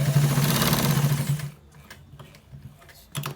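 A sewing machine stitching a welt pocket runs in a fast, steady whir for about a second and a half, then stops, leaving soft clicks and handling noises.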